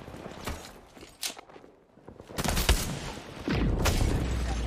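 Gunfire in the Apex Legends battle royale game, a few sharp shots scattered across a busy in-game soundscape with footsteps and mechanical clatter, fairly loud and close with dense noise toward the end.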